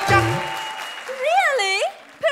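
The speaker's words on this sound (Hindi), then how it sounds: "ठोको ताली।" Studio audience applause on a Hindi comedy show, a broad clapping wash running under loud, animated male speech.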